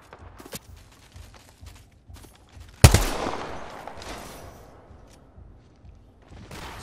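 Gunfire in the video game Apex Legends: a single loud, close blast with a long, decaying rumble. Softer taps and clicks come before it, and quieter noise follows.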